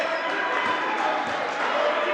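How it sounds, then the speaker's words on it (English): A crowd at an Ontario college men's volleyball qualifier, Mohawk at Canadore, roars in a steady, dense wash of cheering and shouting, urging their team to fight back. "You can hear the crowd imploring their team to fight back."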